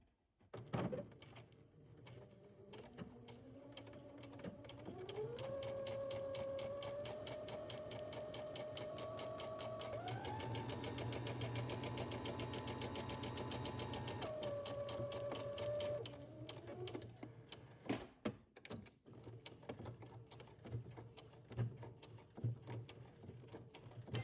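A sewing machine stitches a seam on shirt dress fabric. A steady, fairly quiet motor whine rises and falls in pitch as it speeds up and slows for about sixteen seconds, followed by scattered clicks and fabric handling.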